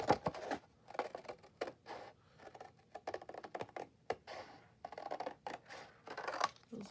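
Scissors snip through paper to cut out sturdy handmade journal cards, a string of short crisp cuts in an uneven rhythm, close and fairly quiet with no voices.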